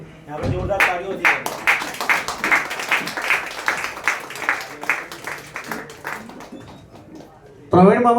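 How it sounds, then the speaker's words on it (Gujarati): Audience at a live stage event clapping, a steady burst of hand claps filling the room for several seconds, with a voice breaking in at the end. "જોરદાર તાળીઓથી"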